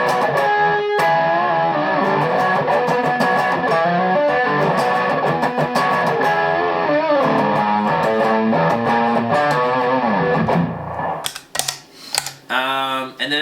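Electric guitar played through stacked Jackal and Full Drive 2 overdrive pedals, sounding crunchy and sustained with chords and picked notes, then breaking into scratchy muted strums near the end.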